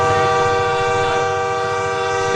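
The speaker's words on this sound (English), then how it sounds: "Is that a train?" A train passes in South Beach with its horn sounding, a loud sustained chord blaring steadily over rumbling rail noise, heard through a phone line.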